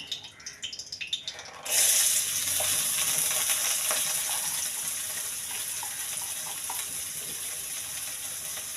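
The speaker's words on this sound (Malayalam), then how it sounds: "ഇനി കുറച്ച് ബദാം ഉണ്ട്, അതൊന്ന് വറുത്തെടുക്കാം." Almonds drop into hot ghee in a pan and set off a sudden loud sizzle that keeps crackling steadily and slowly eases, heard close with no talking.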